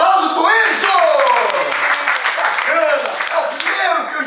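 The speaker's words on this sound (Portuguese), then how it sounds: "aplauso pro Enzo" An audience applauds a child named Enzo, a contestant at a children's stage event, with steady clapping running throughout and excited voices calling out over it.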